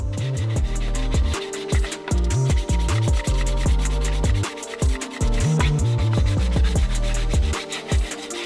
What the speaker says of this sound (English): we need to sand this thing entirely down with 400 and get a lot of this paint off